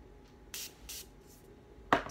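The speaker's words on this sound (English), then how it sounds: "Spritz it on the brush" Setting spray spritzed onto a makeup brush: three short, crisp hissing bursts close to the microphone, then a sharper louder spritz near the end, over quiet room background with no talk.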